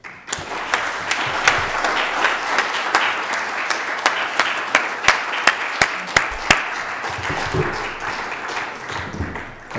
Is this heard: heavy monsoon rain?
no